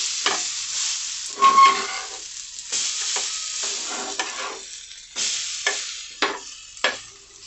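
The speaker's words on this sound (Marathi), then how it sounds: "आता आपण हे ब्रेड आमलेट असं पलटी करून घेऊ, दुसऱ्या बाजूनं पण व्यवस्थित असं" Bread omelette frying in a pan after being flipped, giving a steady, close sizzle broken by several brief scraping and stirring sounds from a spatula.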